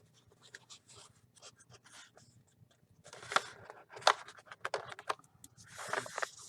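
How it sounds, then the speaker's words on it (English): Paper folded for an origami dinosaur, close soft crinkling and sharp creasing rustles, quiet at first and then a denser run of crisp folding noises, no talking. "then fold it the opposite direction"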